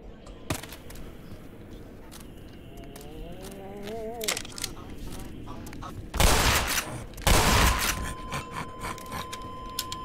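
Gunfire in the video game Black Mesa: sharp isolated shots, then two loud, heavy bursts of firing near the end, with whining game effects and clatter between them.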